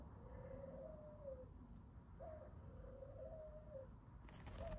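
A rescued feral pigeon gives faint, soft cooing calls, a few drawn-out low hums spaced over several seconds against a quiet background hiss.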